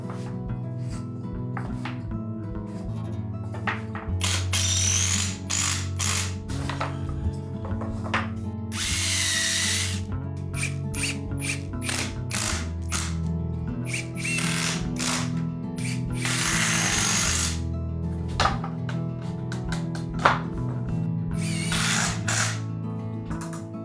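Power screwdriver driving screws through large lumber baluster slats on a stairwell catwalk, one screw per slat, heard as a run of loud whirring bursts of varying length with short pauses between, close up and without talk.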